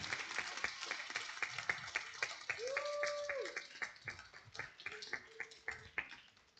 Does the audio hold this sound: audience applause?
yes